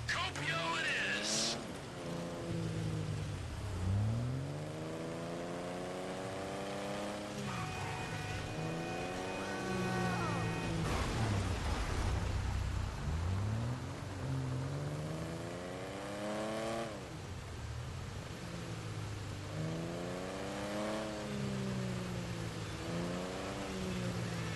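A car drives in Grand Theft Auto V, its engine repeatedly revving up through gears and easing off in a steady cycle under game dialogue and voices.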